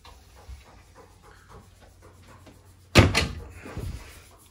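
A porthole in the head compartment of a 2020 Merry Fisher 795 boat is opened, giving a sudden loud latch-and-hinge clunk followed by a brief scraping movement, after a few seconds of quiet cabin noise.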